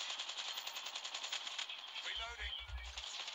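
Rapid automatic gunfire rattles in the Call of Duty Mobile video game, a dense fast burst of shots running through most of the moment at modest level, with a low thump near the end and faint voice underneath.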